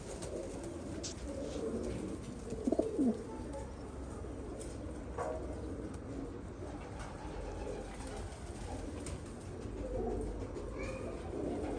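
Pigeons shown at a live auction coo softly in the background, low and steady, with a few brief louder sounds in the first seconds.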